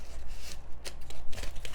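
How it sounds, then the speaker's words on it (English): Scissors snip through paper for a pop-up present box, a few quick close crisp cuts over a low background hum. "I'm gonna use some scissors"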